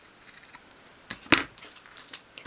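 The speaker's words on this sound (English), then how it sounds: "I just want to snip those bottom corners off" Scissors snip the bottom corners of fabric for dollhouse curtains, a couple of faint light cuts around one crisp, close snip, otherwise quiet.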